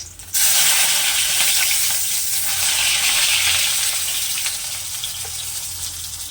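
Rohu fish pieces sizzle steadily in hot oil in a pan, a loud, dense frying hiss that rises sharply at the start and holds continuously, easing slightly toward the end with no voices.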